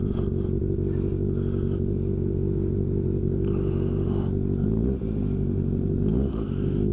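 A Kawasaki ZX-6R 636 sports motorcycle hums with a steady low engine drone while being ridden, along with wind rush and some clattering. It sounds loud and continuous, heard from the rider's position, with no talking.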